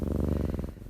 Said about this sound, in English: And the sound you're hearing is Zelda the foster cat